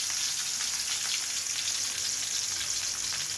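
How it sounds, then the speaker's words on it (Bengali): Rohu fish pieces frying in hot oil, a dense, even, loud crackling sizzle heard close up and unbroken throughout, with no talking. "এখন তেলটা গরম হয়ে গেছে মাছগুলো করে দিচ্ছি"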